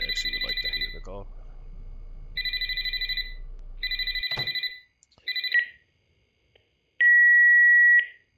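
In the Graveyard Shift at Freddy's video game, an electronic phone ring sounds in several repeated bursts, close and clear, with a voice talking briefly at the start and a steady beep tone near the end.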